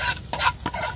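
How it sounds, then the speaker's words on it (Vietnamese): Field crab being stir-fried in a pan, with quick bursts of scraping and stirring over a steady sizzle, close by and without talk. "Mình xào cua nó cũng chín rồi nè."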